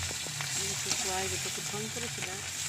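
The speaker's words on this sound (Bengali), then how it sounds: "মা বললো দাঁড়া মাছটা ভেজে নি তারপর দিচ্ছি" Fish and fish roe fry in a pan with a steady, soft sizzling hiss, while a voice talks over it the whole time.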